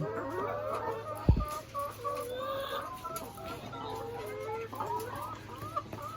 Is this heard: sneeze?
no